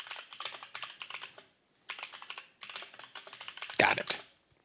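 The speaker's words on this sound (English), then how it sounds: "That is some furious typing" Someone types fast and hard on a computer keyboard in dense bursts of rapid clicks, with short pauses between them and a louder clattering flurry near the end.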